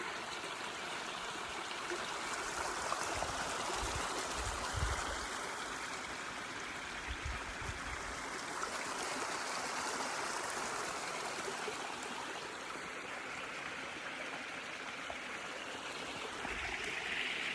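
A small stream trickles and babbles steadily beside a hiking trail on the Pacific Crest Trail, a continuous close wash of running water with no talking.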